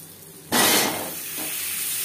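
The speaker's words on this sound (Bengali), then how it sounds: "লবণ হলুদ দিয়ে আলু ভেজে নেব।" Boiled potato halves with salt and turmeric hitting hot oil in a pan, a sudden loud burst of sizzling that flares for a moment, then settles into a steady, softer frying hiss.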